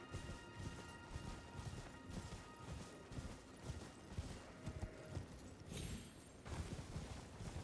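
The spectral steed Torrent's hooves clip-clop in the Elden Ring video game, a quick, even rhythm of soft galloping beats running steadily underneath game ambience and faint mechanical sounds.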